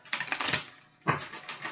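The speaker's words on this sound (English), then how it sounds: "Shuffle the cards." Tarot cards shuffled by hand in two quick bursts of crisp, close clattering and riffling separated by a short pause, heard alone without talk.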